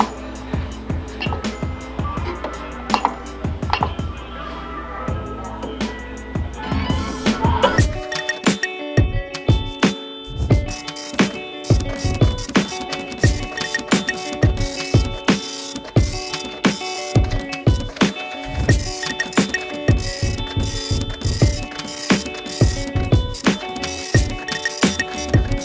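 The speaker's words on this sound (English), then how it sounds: "While we're waiting for our 3D printer to do its job" A 3D printer runs a print, its motors giving off rapid mechanical whirring and stepping tones in a dense rhythmic pattern, steady and fairly close throughout.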